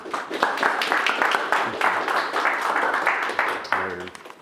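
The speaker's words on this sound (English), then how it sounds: "Please give him a round of applause" Audience applause at a talk on AI and leadership, a busy patter of many hands clapping for several seconds at moderate distance, thinning out toward the end as a voice begins.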